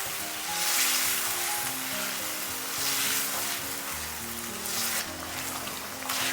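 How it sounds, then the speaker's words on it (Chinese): Small potato dough pieces are stir-fried in a wok after a bowl of boiling water goes in, making a close, hissing sizzle with bubbling that swells and eases in waves as the pieces are tossed. "再把土豆小面片给全部加进来，然后给它翻炒均匀。"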